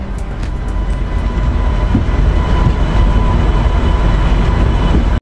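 The Falaknuma Express runs between Howrah and Kharagpur with a steady, loud rolling rumble on the rails, heard from inside the train and broken by a few faint clicks.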